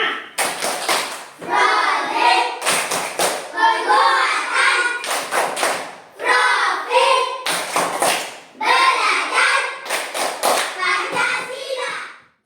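Classroom of schoolchildren performing a rhythmic P5 clapping ice breaker, sharp patterned bursts of claps alternating with chanted group voices in repeating phrases, close and loud.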